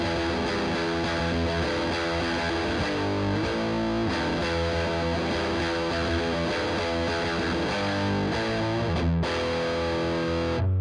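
Overdriven electric guitar riff through a Paul Reed Smith amp with the bright switch turned off, thick and continuous for about eleven seconds with no talk, ending in a brief break before the last chords.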